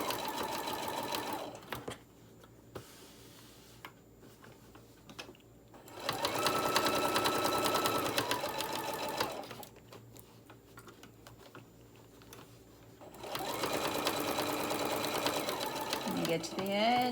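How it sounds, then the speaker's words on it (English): Sewing machine stitching up the side of a small tote bag with pockets, steady whirring runs in two or three bursts separated by quiet pauses, close up. "Sew up this other side."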